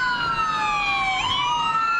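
A city ambulance siren on its emergency response wails close and loud, a continuous rising and falling tone that sweeps through one steady glide.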